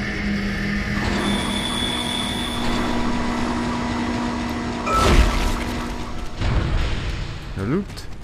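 An in-game tram in Dead Space runs on rails, giving a low mechanical rumble with tonal hums and whines and a louder metallic clatter partway through, all at a steady moderate level.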